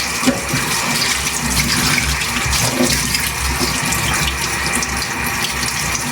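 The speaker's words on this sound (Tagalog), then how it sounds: "magandang sa running water mo na lang siya hugasan" Food rinsed under a running kitchen tap, a close, steady rush of water splashing continuously throughout with no talk.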